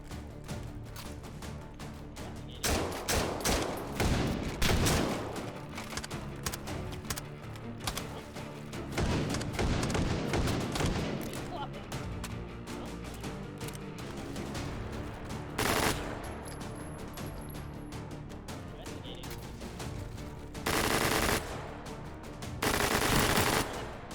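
Rapid gunfire from the VR shooter game H3VR, including a shotgun, rattles in dense continuous bursts for over twenty seconds, loud and close, with a few sharper louder blasts.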